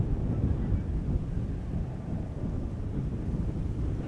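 Wind buffets a camera microphone outdoors at Schiphol Airport, a continuous loud low rumble with gusty surges and no speech.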